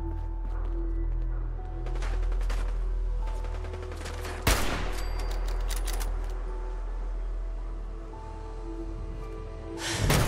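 Enemy gunfire in Fallout 4 crackles in rapid bursts, close and loud, with sharp individual shots standing out amid ongoing firing and ambient game noise.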